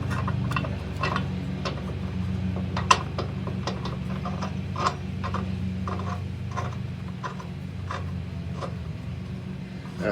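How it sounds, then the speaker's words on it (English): Ratchet tightening the bolts on an RV hitch mount, a series of short, sharp clicking bursts repeating at an uneven pace over a steady low hum, close and fairly quiet. "I'll just snug those down and we should be good."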